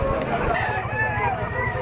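A rooster crows among bull stags at the Malabon pet market, a short loud call close by over a busy crowd of voices and talk.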